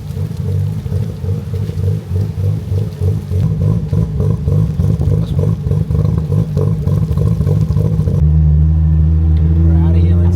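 A car with small turbos rumbles and surges close by on city streets, a loud continuous engine drone that swells and shifts pitch, with voices talking over it.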